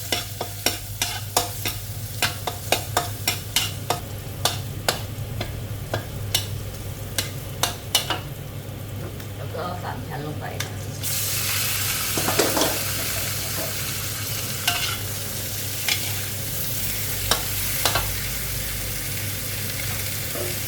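Pork belly stir-fried in a pan with salt, a steady close sizzle broken by repeated scraping stirs, the frying growing louder and hissier partway through.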